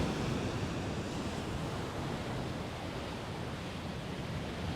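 Storm waves break and roar continuously on the shingle of Chesil Beach at Abbotsbury, a dense, loud wash of surf with wind noise and no voices.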